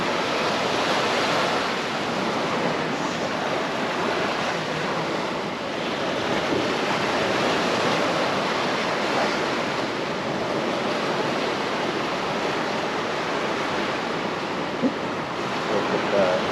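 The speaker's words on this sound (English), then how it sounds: "All the waves rolling in" Ocean waves roll in over a thick reef along the coastline, forming a constant broad wash of surf with some wind noise on the microphone, heard from a distance without any talk.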